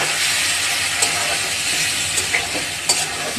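Fish fry in a pan, giving off a loud, close, continuous sizzle with a few brief crackles and pops as the pieces are moved around.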